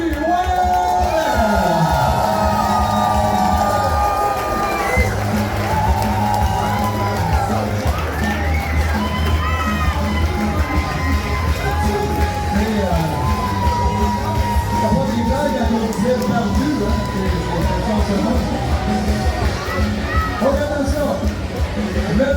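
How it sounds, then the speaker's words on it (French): A large crowd at a hot pepper eating contest cheers and yells loudly over booming music, with whoops and shouts rising throughout; scattered clapping is buried in the noise. "on lui donne une bonne main d'applaudissement. Bruno Barbu!"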